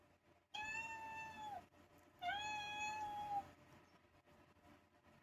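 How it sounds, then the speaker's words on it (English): A smart speaker plays a recording of cats meowing: two long, drawn-out, tonal meows, each over a second, clear and close with a short pause between them. "Alexa, play some cats meowing."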